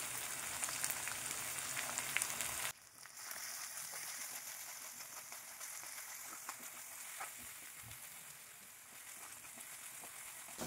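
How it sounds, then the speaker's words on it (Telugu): Mustard seeds, curry leaves, coriander and chopped garlic frying in hot oil for a tempering, a steady close crackling sizzle throughout that dips briefly near the start as ingredients drop in, with no talk. "ఆవాలు, కరివేపాకు, కొద్దిగా కొత్తిమీర వేసుకుని నీళ్ళు లేకుండా బాగా వేగించుకోవాలి"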